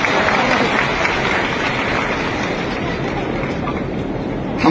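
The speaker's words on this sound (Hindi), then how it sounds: "ताली बजाया तो जोर से बजाओ।" Sustained applause from an audience at a police announcements event held by Madhya Pradesh's Chief Minister, a dense steady clatter of many hands filling the whole stretch at close range, with no voices rising above it.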